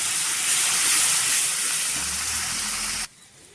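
Pointed gourds fry with ground spices in a hot pan, giving a loud, close, steady hiss of sizzling that stops suddenly, leaving a faint low background.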